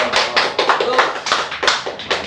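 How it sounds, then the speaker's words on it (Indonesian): A small group claps hands at a casual coffee-and-chat gathering of a motorcycle club in Bandung, sharp close bursts of clapping in several quick uneven waves. "Tepuk tangan dong."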